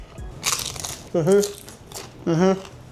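Fried tortilla nacho chips crunch in a few sharp, dry bursts up close, with a person's voice speaking between the bites.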